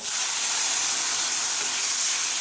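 Tomatoes sautéing in a spice masala for tomato soup: a loud, steady, close sizzle and hiss that holds constant throughout with no breaks.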